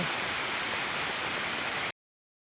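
Steady rain pours down in an even, dense hiss, then cuts off abruptly near the end.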